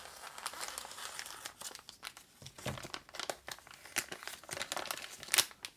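Plastic package of Blooming Jelly tops crinkling and crackling close up as it is handled and pulled open, in quick irregular bursts, with one sharper crack near the end.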